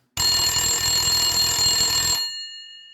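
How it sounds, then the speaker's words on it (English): A telephone rings in one continuous electronic trill lasting about two seconds, loud and close, then cuts off with a short fading tail. "her phone rang."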